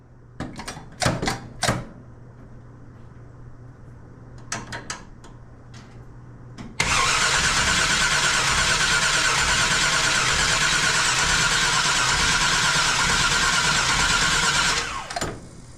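A 1966 Chevrolet Impala engine cranking over steadily for several seconds without catching, loud and close, after a few clicks and handling noises in a quieter stretch.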